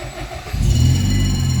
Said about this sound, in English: The car start, perfect.